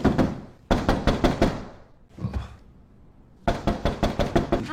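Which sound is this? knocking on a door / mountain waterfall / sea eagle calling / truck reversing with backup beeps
knocking on a door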